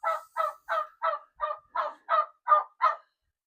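A turkey gobbles in nine quick, evenly spaced bursts of loud, close, raspy calls on a farm where chickens are kept with the turkeys, with no talking.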